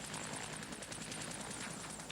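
Helicopter from the Soviet cruiser Leningrad hovering at close quarters over the sea, a steady loud rotor chop with a rapid regular beat and constant engine whine, alone with no voices.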